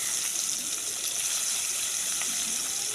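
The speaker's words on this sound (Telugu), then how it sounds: "మళ్ళీ బాండి పెట్టేసి ఆ ఆయిల్లోని మసాలా దినుసులు వేసా" Whole biryani spices sizzle in hot oil in a kadai while egg biryani is being made, giving a steady, bright hiss that carries evenly through the whole stretch with no talking.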